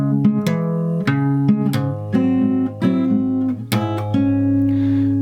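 Fingerstyle acoustic guitar plays the ending of the Spiderman theme: plucked chords and bass notes in a steady rhythm, close and clear, with no voices.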